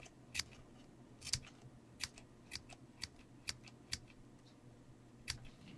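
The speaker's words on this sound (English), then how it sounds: "I'm just going to snip all the way down in kind of a little bit of an angle." Scissors snip washi tape into a feather shape, about nine crisp, close cuts spaced at a steady, unhurried rhythm in an otherwise quiet room.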